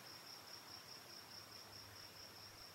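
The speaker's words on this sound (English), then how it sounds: "but the crickets are just singing, almost like a drum beat" Crickets chirping in a meadow, a steady pulsing trill repeating at an even, drum-like rhythm over a soft, low background hum, with no voices.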